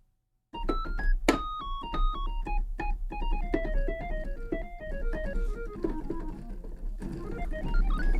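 Bright retro chiptune-style synth melody plays with quick, bouncy notes over a busy backing, loud and continuous after a brief silent start.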